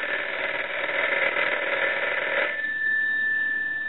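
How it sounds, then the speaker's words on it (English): An American candlestick telephone's bell box rings with a loud, sustained metallic bell trill for about two and a half seconds, then cuts off, leaving a thin steady tone over faint background hum. "So we'll ring it again."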